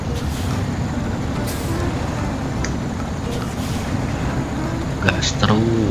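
An old Mitsubishi pickup truck revs its engine as it grinds along an offroad track, a steady loud drone with clunks and rattles near the end, while people talk over it.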